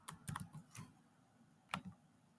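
Keys tap on a computer keyboard while a short word is typed, a quick cluster of soft, close clicks followed by a pause and a final pair of taps, faint and without talk.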